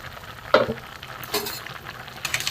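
Mixed vegetables cook in a pan with a soft, steady bubbling sizzle, broken by a few close scrapes and clinks of a spoon stirring them, with no talking.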